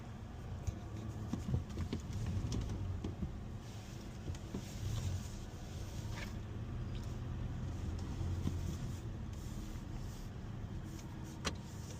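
A Toyota Tacoma TRD pickup drives along a street, its cabin filled with a low steady engine and road rumble that stays even throughout, with faint clicks and rattles inside.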